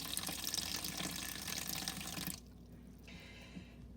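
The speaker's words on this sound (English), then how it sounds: "Now I'm going to take just cold water and I'm going to fill it" Cold running water pours steadily into a container holding marbles, loud and close, then drops to a quieter trickle for the last second or so.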